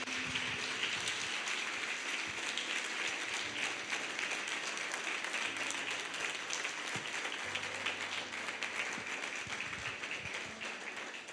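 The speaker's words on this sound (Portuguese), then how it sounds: "Se você recebe, aplauda Jesus bem forte." Church congregation applauding loudly, a long steady wash of dense clapping from many hands that stays even throughout, with only faint voices beneath.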